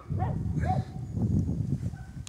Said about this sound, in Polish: Mój piesek szaleje.